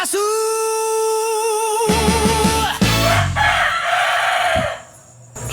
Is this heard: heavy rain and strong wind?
no